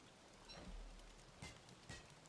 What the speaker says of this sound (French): On va essayer de se mettre à l'abri de la pluie.